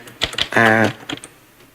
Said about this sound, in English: if you type in here